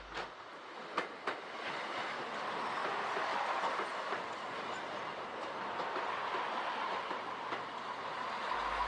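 A train rolls past in Knaresborough, a steady rumbling wash of rail noise with faint clickety-clack running through the whole stretch, heard from a moderate distance with no talking.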